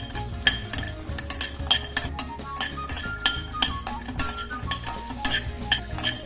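Fennel, star anise and cashews are dry-roasted in a pan without oil. A spatula scrapes and clinks steadily against the metal, close and fairly loud, with a faint musical tone running underneath.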